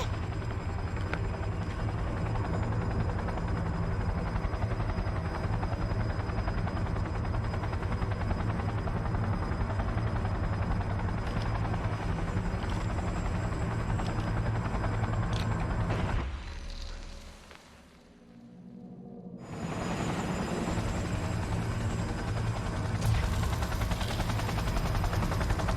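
Aircraft lifting off in the video game Cyberpunk 2077, heard as a loud, steady helicopter-like rotor drone with a brief dip partway through before the engine roar returns at full level.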